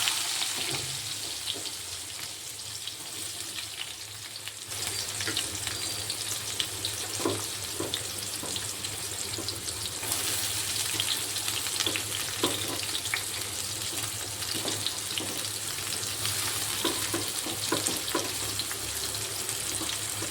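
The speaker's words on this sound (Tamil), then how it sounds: "வெங்காயம் நல்லா கோல்டன் ஃப்ரை வர வரைக்கும் வதக்கணும்" Onions with split green chillies sautéing in a pan for vada curry, a continuous even sizzle with intermittent stirring scrapes, moderately loud and without talk.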